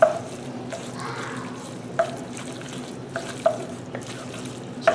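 Roasted, pan-fried chicken being stirred into a pot of jambalaya with tomato and seasoning at a cooking contest, a soft wet churning with a few sharp spoon clinks against the pot, close and unvoiced.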